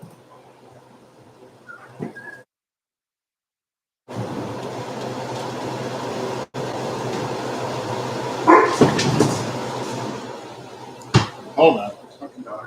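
Dogs bark and scuffle in a home kitchen during cooking. After a short silence comes a loud, sustained commotion, with sharp thumps and bursts of barking toward the end.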